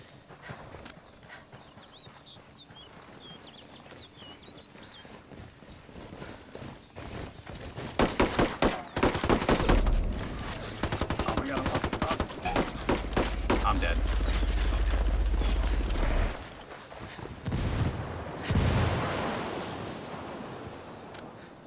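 Gunfight in Ghost Recon Wildlands multiplayer Ghost War on PS4, with dense bursts of rapid automatic gunfire and single shots building from quiet into long, loud volleys, then tapering off with scattered shots near the end.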